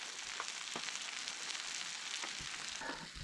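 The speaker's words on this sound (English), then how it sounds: "what you'll end up with is a little bit of meat and onion boiling away in a vat of fat" Meat and onion frying in a deep pool of fat at a bushcraft camp cook-up give a steady, soft sizzle with scattered crackles and pops, close and without talk.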